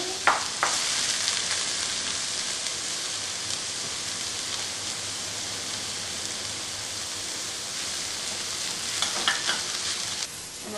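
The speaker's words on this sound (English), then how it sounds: "And another very good mix" Onions with ginger garlic paste frying in a pan, a steady loud sizzle throughout, with scraping stirring strokes near the start and again toward the end.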